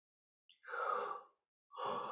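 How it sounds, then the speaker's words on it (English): A big yawn, drawn out as a breathy exhale that swells and fades, followed by the start of a second breathy yawn, heard close up and alone without talk. "big yawn to that one"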